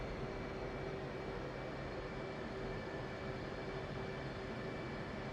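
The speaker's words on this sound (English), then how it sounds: "Spool these engines up a bit," F/A-18C jet engines spooling up in the flight simulator DCS, a steady, dense roar with a sustained whine held evenly throughout, no speech.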